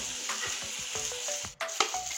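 Potatoes and onions fry together in a pan with a steady, close sizzle, broken by several sharp scraping stirs of a spatula and a brief pause near the end.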